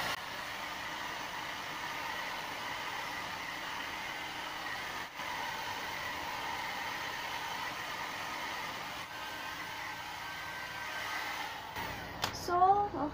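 A hair dryer blows with a steady, loud whooshing roar that continues almost the whole time, cutting off with some handling noise at the end.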